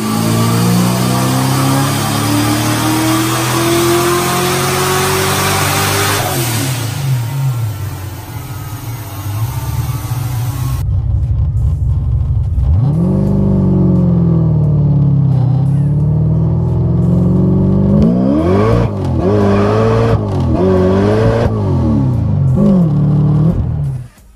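A loud supercharged Ford Mustang SN95 engine, a built 363, revs repeatedly and accelerates, its pitch rising and falling through several throttle blips, ending abruptly.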